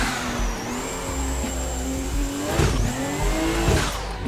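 Drift car on track during a drift competition lap, engine revving up and down loudly with rising and falling pitch while tires squeal continuously, with surges around the middle and end; no talk.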